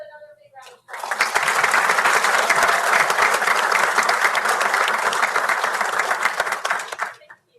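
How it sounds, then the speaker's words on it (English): Audience at a town board of aldermen meeting applauds students with sustained, loud clapping lasting about six seconds before tapering off, with brief talk just before it starts. "Let's give these students another big round of applause."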